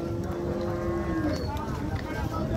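An HF cow lows at the Sangola cattle market in Solapur, Maharashtra, a single long, deep moo that trails off, heard close over a constant murmur of market crowd noise.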